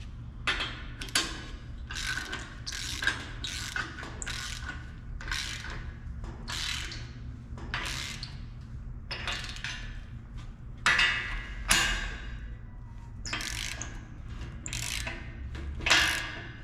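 A stand leg is turned onto its internal thread, giving a series of sharp ratcheting clicks and scrapes in irregular bursts, close and fairly quiet, with no talk.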